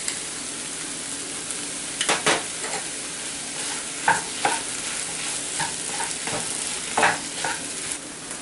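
Red chili paste frying with mushrooms in a pan, a loud continuous sizzle broken by repeated scraping strokes of a spoon as the mixture is stirred, close up and with no voices.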